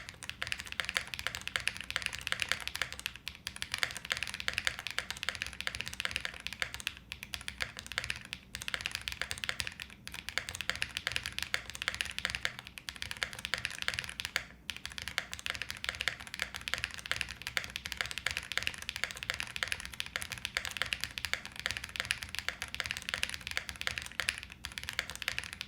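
Steady, continuous typing on a Cupid65 keyboard fitted with Cupid switches and GMK keycaps, a dense stream of close, crisp keystrokes with occasional brief pauses and no voices.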